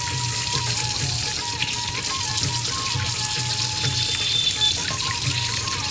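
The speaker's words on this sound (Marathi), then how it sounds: "इथे हाय प्रेशरने पाणी मारते" A high-pressure water jet rinsing boi and palu fish during cleaning, a steady, loud hissing spray of water running continuously throughout, with no talk.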